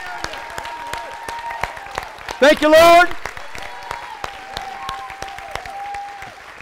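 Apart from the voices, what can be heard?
congregation hand clapping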